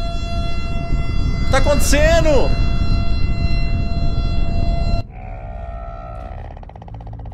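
A loud wailing civil-defense-style siren in a video game, rising and falling in pitched sweeps for about a second before an abrupt cut, with a voice speaking over it.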